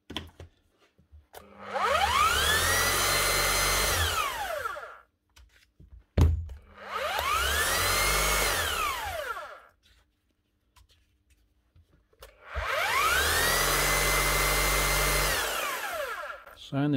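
A Bosch GBH 5-40 DCE rotary hammer, rebuilt after a broken striker pin, runs in three separate loud bursts of a few seconds each. The motor whines up to speed and winds down between them, with no talk.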